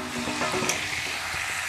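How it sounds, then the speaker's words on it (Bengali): Elephant foot yam cooks with spices in a pan, giving a brief, dense, close sizzle with soft stirring noise and no voices. "ওলটাকে ভালো করে কষে নেব।"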